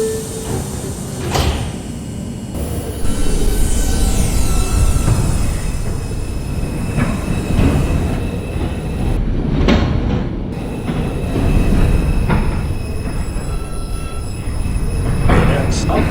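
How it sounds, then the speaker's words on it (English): An R142 subway train on the 5 line in the Bronx closes its doors and departs, with door chimes and a steady, loud rumble of rolling stock building as it pulls out. "Stand clear of the closing doors"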